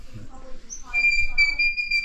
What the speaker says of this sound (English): I gave them a shepherd's whistle each to practice with